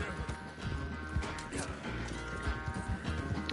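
Horse hooves clip-clop in Red Dead Redemption 2 as a steady run of dull thuds, mixed with other game noise and ambience and heard fairly close.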